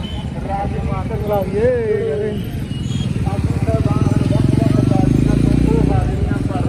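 A motorcycle engine chugs nearby with a steady throbbing pulse while people talk over it.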